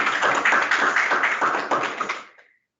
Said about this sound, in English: So I think they deserve a clap as well.